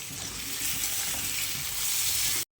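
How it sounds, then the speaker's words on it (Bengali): Garlic, tomato and dry spices sizzle steadily as they are stir-fried in a hot pan for a snail curry, a continuous loud hiss with light scraping, cut off by a brief silence near the end. "রসুন, টমেটো আর শুকনো মশলাগুলো ঢেলে দেবো, দিয়ে ভালো করে কষাবো।"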